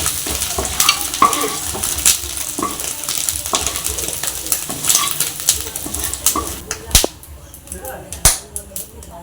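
An egg frying in oil in a pan, stirred as it cooks, with steady close sizzling and repeated scraping, tapping strokes of the spatula, a few sharper clacks near the end.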